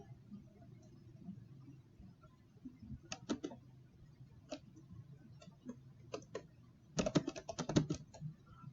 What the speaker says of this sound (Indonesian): Kita ketikkan aja.